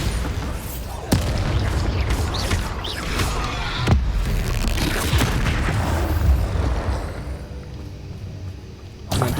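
Rapid spell blasts from Confringo and Bombarda in Hogwarts Legacy, heavy booming explosions with rumbling low end, sharp impacts near the one- and four-second marks, loud and continuous over a dense game soundscape.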